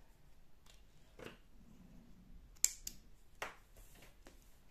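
Scissors snip cross-stitch thread in a quiet room, a single sharp close cut standing out among a few soft handling rustles and small clicks.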